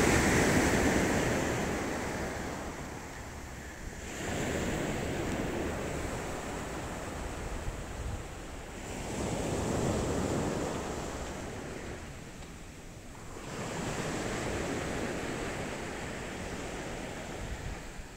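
Sea waves break on the Ligurian coast at Finale Ligure in winter, with four or five surges rolling in and washing back at a slow, regular pace, loud and close, and no voices.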